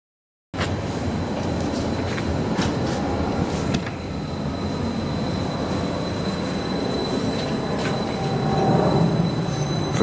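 A Class 322 electric multiple unit rolls into a platform at London Liverpool Street station, a continuous rumble of wheels on rails with squealing and clanking, close and loud throughout, with no speech over it.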